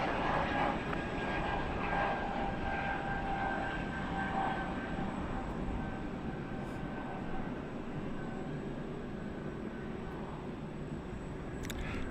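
A steady, broad roar of jet engines runs continuously at a distance, with a faint high whine layered over the low rumble.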